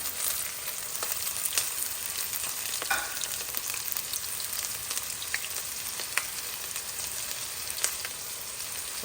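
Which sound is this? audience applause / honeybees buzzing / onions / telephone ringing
onions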